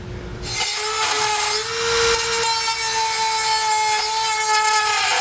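A small rotary tool whines at a high pitch as its cutting wheel grinds steadily against metal, enlarging holes while mounting a Curt trailer hitch receiver on a 2021 Chevrolet Equinox, close up and continuous.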